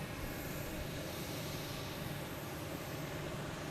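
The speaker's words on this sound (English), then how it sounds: "737-800 is that Alaskan Airlines" An Alaska Airlines Boeing 737-800 jet at Boston Logan Airport roars steadily as a broad, constant rush of engine noise, held at a fairly even level with no voices.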